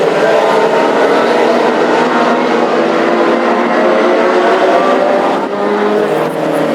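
Classic hot rod race cars roar past on an oval track at Hednesford, a loud, continuous dense engine drone from several cars in close succession, with no voices over it.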